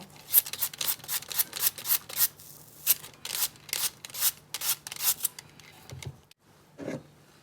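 Small frozen tomatoes are scraped in quick rhythmic strokes, about a dozen rasping scrapes in bursts, fairly close and quiet, with a pause and a final scrape near the end.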